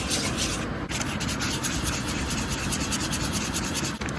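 Carbonara sauce with pecorino and black pepper is whisked by hand at a backcountry camp, a continuous rapid scraping and rubbing that stays loud and close, with no talk over it.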